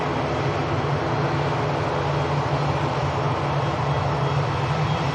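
A jet airliner taxis at Manchester Airport, its engines giving a steady, broad roar that stays even in level throughout with no talk.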